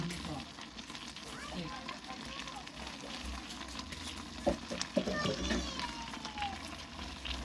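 Sardines and pechay cooking in a pan give a steady, close sizzle and frying crackle throughout, with occasional stirring clatters and a couple of sharper knocks near the middle.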